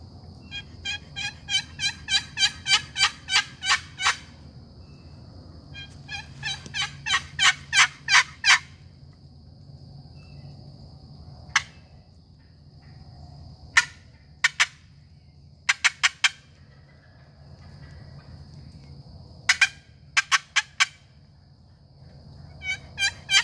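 Wild turkey hens answer a custom cedar-over-spalted-holly long box call outdoors, loud bursts of rapid yelps in rhythmic runs and short clusters, separated by quiet pauses over a low steady background hum.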